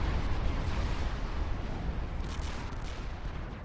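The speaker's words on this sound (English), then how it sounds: "Jack's using a force fire to keep Dark at bay" Units force-fire in the real-time strategy game Supreme Commander 2, producing a dense, continuous rumble of booming weapon fire and explosions that stays loud throughout.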